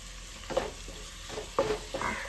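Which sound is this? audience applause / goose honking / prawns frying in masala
prawns frying in masala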